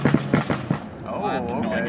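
A few sharp cracking pops burst from the idling engine of a tuned 700 hp BMW F13 M6 on a Stage 2 map, then a low rumbling burble continues as someone's voice overlaps.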